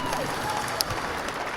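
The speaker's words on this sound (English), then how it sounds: "Round of applause for Brad, who's doing a great job as our MC." Applause from a crowd at an anniversary keynote event for the MC, Brad, a steady wash of many clapping hands with some crowd noise mixed in, sustained at moderate level.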